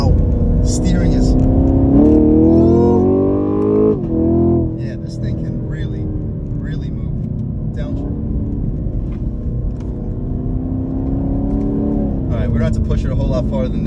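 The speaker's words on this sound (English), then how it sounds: "you can still hear that exhaust rumbling" A 2022 Camaro 2SS 1LE's deep exhaust rumbles loudly in track mode, rising in pitch as it revs through gears, then settling into a steady growl with a voice talking over it.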